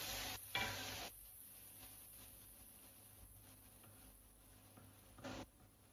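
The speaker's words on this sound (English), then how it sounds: "Always stirring this just to make sure it's not burning or catching or anything." Chopped garlic frying in a pan is stirred for beef and cheese empanada filling, giving a quiet, steady sizzle with a few louder scraping stirs at the start and near the end.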